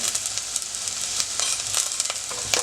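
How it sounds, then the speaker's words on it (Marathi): Chopped chilli and onion with turmeric sizzle steadily in hot oil while being sautéed for a bharangi forest-vegetable dish, a continuous close frying hiss with small crackling pops and no talk. "मिरची आणि कांदा हे दोन्ही जरा परतून झालंय"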